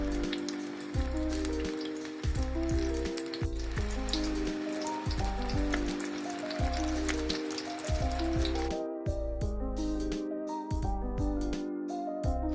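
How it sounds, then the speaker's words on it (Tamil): Beef curry bonda dropped into hot oil, giving a crackling sizzle with repeated plopping and bubbling bursts throughout, fairly close and with no talking. "எண்ணெய் காஞ்சிட்டு இப்போ கறி போண்டா போட்டுற வேண்டியது தான்."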